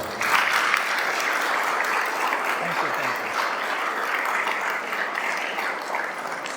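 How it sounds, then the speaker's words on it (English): Audience applause at a program opening, a dense and sustained round of many hands clapping at even loudness, with a faint voice briefly audible underneath. "I really have to give Pat a huge round of applause"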